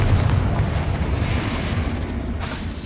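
A Confringo fire spell blasts in Hogwarts Legacy, a loud, deep booming explosion that rolls on as a sustained rumble through the whole span, with no talking.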